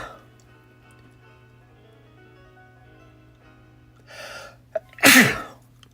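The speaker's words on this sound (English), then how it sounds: "I gotta sneeze." A person sneezes indoors over a low steady hum: a short breathy intake followed by a sharp, loud burst, with a small click just before, and no other sound.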